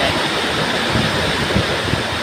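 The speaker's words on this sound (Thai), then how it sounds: "ฝนตกครับฝนตกนะครับ" Heavy rain pouring down during a windy storm, a loud, unbroken wash of hissing noise with faint low gusts, close and constant with no voices.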